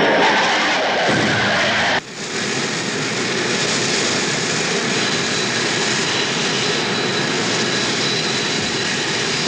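Blue Angels F-4 Phantom jets streak past at over 500 mph toward a crossing point above the flight line, making a loud, sustained roar. An abrupt break near the start gives way to a continuous, building rush of jet noise.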